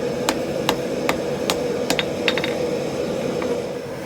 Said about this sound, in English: When you hammer perpendicular to the plane of the weld like this